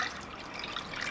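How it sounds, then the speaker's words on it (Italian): Milk poured into a saucepan for homemade hot chocolate, a steady soft liquid trickle and splash with a faint watery gurgle throughout, quiet and close. "Cominciamo con il mettere all'interno di una pentola una parte di latte"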